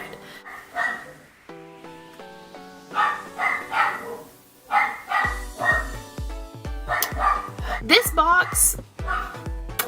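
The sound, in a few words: dog barking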